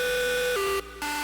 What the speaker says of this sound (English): It's really just a square wave with some noise